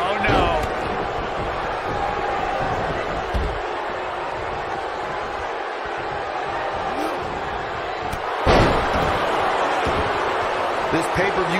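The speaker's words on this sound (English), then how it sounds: "This pay-per-view crowd really showing their appreciation for what has been a great match so far" A roaring arena crowd in the WWE 2K19 wrestling game, a steady loud wash of cheering that swells near the end, with a commentator talking over it.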